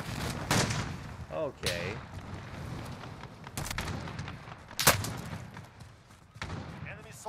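Gunshots in a shooter video game: several sharp, loud cracks scattered irregularly across the stretch, mixed with game effects and a voice talking over them.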